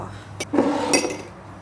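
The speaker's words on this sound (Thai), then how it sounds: "ปิดฝาเครื่องปั่นเนี่ยนะคะ" A blender lid is pressed shut on a jug filled with blended fruit, giving a couple of close plastic clicks and a short clattering knock, with no talking.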